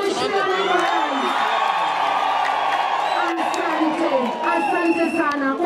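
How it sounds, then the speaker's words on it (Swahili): A large outdoor crowd at a rally for Kenya's deputy president cheers, whoops and ululates loudly and continuously, with high trilling voices rising over a dense roar of shouting. "Wapi shangwe na vigelegele vya mheshimiwa naibu wa rais?"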